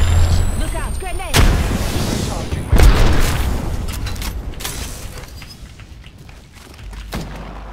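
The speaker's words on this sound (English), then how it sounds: "Look out, grenade." A grenade explodes in a first-person video game: a heavy, booming blast that thuds sharply up front, followed by a second loud boom and scattered rumbling gunfire, with a voice talking over the combat.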